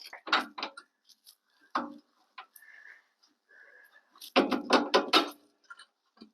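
An extendable socket wrench ratchets in short clicking bursts during a 2-inch level kit install on a 2004 Dodge Dakota, close and crisp, separated by pauses and faint metallic taps.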